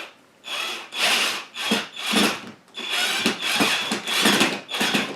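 Loud, close drilling into a ceiling in repeated short bursts, the bit grinding through material with brief pauses between each push; no talking.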